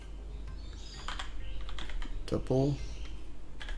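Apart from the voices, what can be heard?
typing on a computer keyboard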